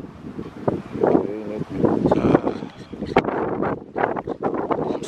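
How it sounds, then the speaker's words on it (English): Strong wind buffets a microphone outdoors at a rainy sunset on the coast of Portugal, a rumbling, gusting roar that surges and drops with a muffled voice underneath. "it's very, very windy"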